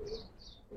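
Soft, faint cooing from Giribaz tumbler pigeons in a loft, with a short murmuring call repeated over under a second.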